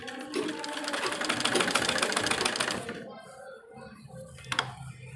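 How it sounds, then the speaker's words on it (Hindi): A sewing machine runs steadily for about three seconds as it stitches along the edge of a sleeve on a readymade kurti-style dress, stops, then gives a short burst. It is close and fairly quiet. "किनारे किनारे पर हम सिलाई लगाएंगे"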